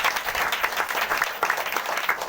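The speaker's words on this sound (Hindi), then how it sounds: "ताली बजा के धन्यवाद करिए" A church congregation applauds in steady, dense clapping that stays loud and even throughout the short stretch.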